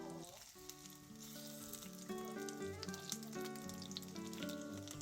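Korean jeon pancakes frying on low heat in a frying pan give a faint, steady sizzle and crackle beneath louder background music, without talk.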